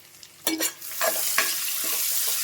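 Onions with half a teaspoon of salt stirred in a hot pan for upma: a couple of sharp spatula scrapes and clinks, then a steady close sizzle, no voices.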